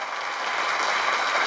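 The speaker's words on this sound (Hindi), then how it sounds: "एक बार तालियां बनती हैं यार।" A studio audience at a televised dance competition applauds steadily, a dense, even wash of clapping throughout.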